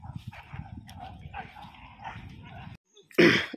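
Dogs on a village path near a river give yips and whimpers over a rustling, uneven background, then a single loud, close bark cuts in after a short silence at the end.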